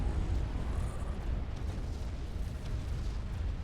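In Supreme Commander, a nuke detonates over an enemy base: a sustained, heavy rumble thick with deep low-end roar, loud and steady throughout without a sharp onset, with no voices.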